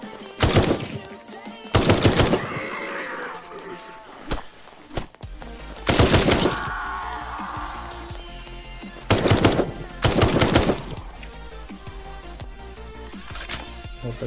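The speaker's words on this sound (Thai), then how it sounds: "มีวิ่งมาแล้วนะครับ ได้ยินเสียงปืนนะ" Gunfire in the zombie survival video game Night of the Dead comes as several loud, rapid automatic bursts separated by short pauses, with quieter game sounds in between.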